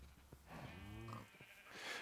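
A single sheep bleat from Minecraft rings out clearly for about a second, wavering and nasal, with a quiet lull before and after.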